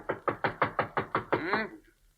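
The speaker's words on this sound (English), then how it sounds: "Knock on the door for me, will you?" A series of seven sharp, evenly spaced knocks on a door, close and loud, performed as a radio drama sound effect and ending with a brief ringing decay.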